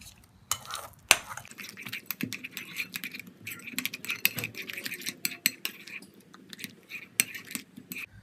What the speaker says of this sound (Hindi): इन सब चीज़ों को अच्छा से मिक्स करेंगे।